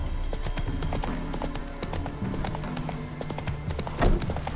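Geralt's horse Roach gallops in The Witcher 3 with rapid, rhythmic hoofbeats close by over a low ambient bed, and a brief louder thump comes near the end.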